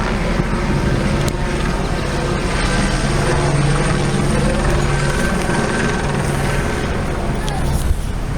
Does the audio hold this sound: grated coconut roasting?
no